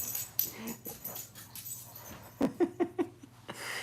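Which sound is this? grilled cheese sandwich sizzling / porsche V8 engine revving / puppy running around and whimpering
puppy running around and whimpering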